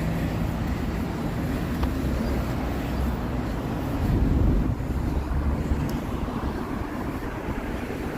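Wind gusting outdoors on a street in uptown Halifax, Canada, in November, a steady broad rush buffeting the microphone with a slight swell midway and no talking.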